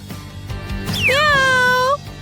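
A single long cat meow sound effect rises then settles into a sustained wavering tone, loud and close over faint background noise.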